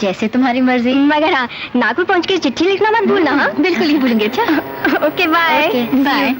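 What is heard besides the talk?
None of the usual background noises is heard.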